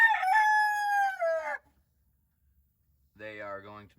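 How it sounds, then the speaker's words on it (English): A large fowl White Crested Black rooster crows nearby, one long drawn-out call followed after a pause by the start of another, loud and clear against a quiet background. "I picked up a new large fowl white crested black rooster."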